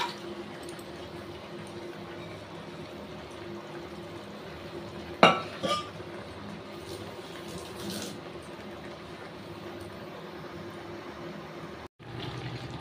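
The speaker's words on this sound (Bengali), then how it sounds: "ওটা চিকেনটা দিয়ে দেবো ঢেলে।" Raw chicken poured into a cooking pot in a home kitchen, giving one brief sharp splash and clatter partway through, set against a steady background of low kitchen hum and faint stirring.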